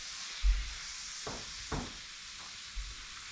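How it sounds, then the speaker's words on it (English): Chopped leeks sizzle in butter and oil in a pan, a steady soft hiss with a few light stirring scrapes, close by and without talk. "Throw in our leeks."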